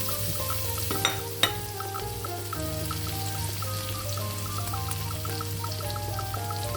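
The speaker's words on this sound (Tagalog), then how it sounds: "lagyan natin ng butter. Final luto na yan mga ka-angels." Beef sticks sizzle steadily in butter with garlic in a pan, a continuous frying hiss with a couple of sharp clinks of a utensil early on.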